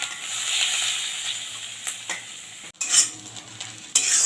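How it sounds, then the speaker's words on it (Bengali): Onion sizzles in hot oil over a bay leaf and curry leaf tempering for egg pepper fry, a steady close hiss broken by a few sharp spatula scrapes and clinks against the pan. "এবারে পেঁয়াজটা দিয়ে দিচ্ছি"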